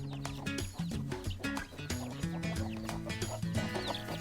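Hens and four newly hatched chicks cluck at feeding time, with close, busy, overlapping clucks and short calls that run steadily throughout and no talking.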